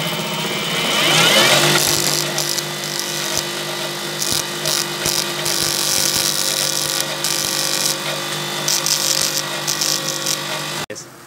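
Motor of a self-charging electric bike throttled up, giving a steady whining hum with a brief rise near the start that then holds level under talk before cutting off abruptly at the end.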